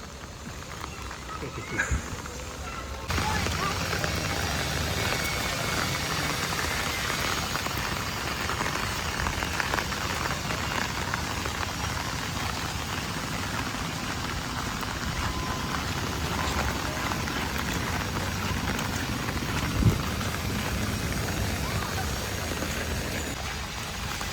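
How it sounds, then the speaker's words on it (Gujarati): Steady, heavy monsoon rain pours down continuously over Surat city, a dense hiss of drops drumming on a surface with no pauses. "જો આ મોજ છે વરસાદની."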